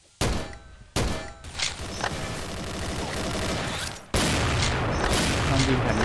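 Sustained rapid gunfire from a BAR rifle in the XSHOT shooter game, loud and continuous in dense bursts with short gaps, mixed with game effects and some talk.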